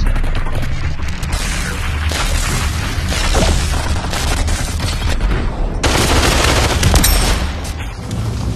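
Sustained video-game gunfire: rapid automatic bursts and booming shots keep up a dense, loud barrage for the whole stretch, with brief lulls and a sharp flare-up near the end.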